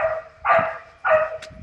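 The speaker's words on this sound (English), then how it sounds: "my dog is barking because there's that other dog there" A pet dog barks twice in close, loud, evenly spaced woofs in a quiet indoor setting, aroused by another dog nearby.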